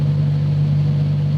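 A car engine runs steadily on a dyno during live ECU tuning, a loud constant mechanical hum and drone held at one speed, with no voices over it.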